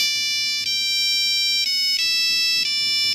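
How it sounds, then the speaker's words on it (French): Polyphonic mobile phone ringtone playing a bright electronic melody, clear repeating synthetic tones in short phrases, loud and alone with a faint background hum. "on pouvait créer nos propres sonneries polyphoniques"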